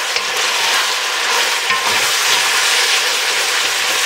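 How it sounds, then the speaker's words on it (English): Green, white and yellow onions fry on high heat in a pan, giving a loud, steady, close sizzle with faint stirring scrapes throughout and no talking. "so now we're throwing our green onion in"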